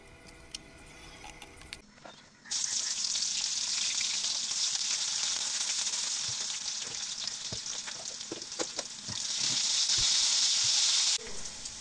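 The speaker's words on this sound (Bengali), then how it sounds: "তেলটি গরম হয়ে গেলে পেঁয়াজ আর কাঁচা ঝাল ভেজে নেব।" Onion and green chili dropped into hot oil in a kadai, a sudden loud close hiss that settles into steady sizzling frying with occasional stirring scrapes, cutting off near the end.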